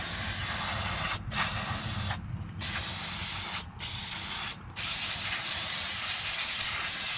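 Brake cleaner sprayed onto the rear drum brakes of a 1977 Cutlass in a loud, continuous close hiss, interrupted by four short gaps where the nozzle is released, with no talking.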